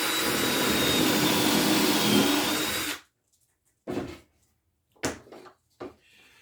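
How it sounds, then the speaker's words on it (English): A pocket hole jig clamped to a board as a drill bores a pocket hole, a loud continuous whine for about three seconds, then silence broken by a few short clattering handling knocks. "And we're going to cut this hole here."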